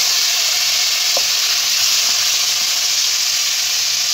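Marinated chicken sizzles and fries in melted butter and white oil, a steady loud hiss with faint crackles running throughout, with no talking.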